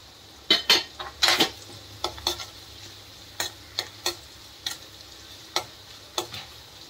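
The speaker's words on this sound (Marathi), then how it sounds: "ही आपली फोडणी तयार होते. त्याच्यात टाकते मी थोडीशी मेथी दाणा" About ten to twelve fenugreek seeds drop into hot oil for a sambar tempering, giving sharp crackling pops and metal utensil clinks at irregular intervals over a faint background sizzle, close by with no talk.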